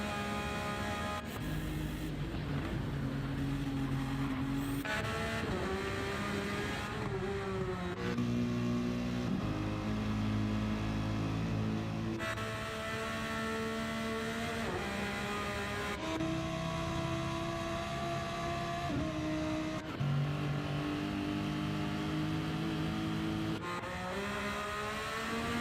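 A Porsche race car at the Nürburgring 24-hour race, a continuous engine drone rising and falling through repeated gear changes, with steady wind and track noise throughout.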